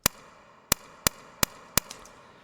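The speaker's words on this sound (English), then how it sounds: "Just a click." Short white-noise clicks from a Serum synth patch with a very fast decay, five sharp isolated ticks at a steady, roughly even pace, fairly quiet with a faint reverb tail.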